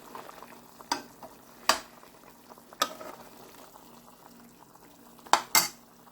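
Chicken and cauliflower fry in their own oil with garam masala, a soft sizzle running beneath sharp, scattered clanks of a metal spoon stirring against the pan, about half a dozen distinct knocks.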